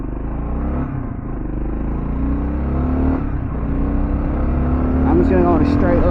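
A Kawasaki KLR650 dual sport motorcycle rides on Shinko 244 tires, a loud steady engine drone with rising revs and rushing wind close to the rider, and a voice briefly audible over it.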